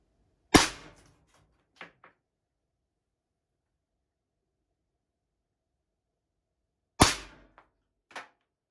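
An Umarex HDP pistol, modified at the valve and loaded with rubber steel ammunition, fires two sharp, loud shots about six seconds apart, each followed by a couple of faint clicks or impacts, with silence in between.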